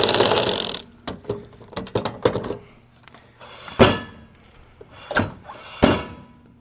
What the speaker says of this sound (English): You're going to do your best to tighten the nut.